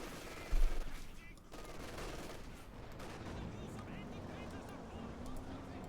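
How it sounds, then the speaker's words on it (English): Machine gun fire in a Company of Heroes 2 match, a continuous rattle with a heavier thump near the start, heard under a commentator's ongoing speech. "Machine gun quickly suppressing the advancing Ostrom."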